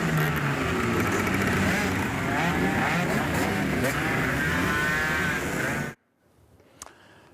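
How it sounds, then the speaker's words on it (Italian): Motorcycle engines roar loudly and continuously at a funeral in Italy where friends escort a young rider who died on his bike, a dense sustained rumble that cuts off abruptly, leaving near silence with a faint click. "Gregorio è stato accompagnato dai suoi amici con il rombo del motore che gli piaceva tanto."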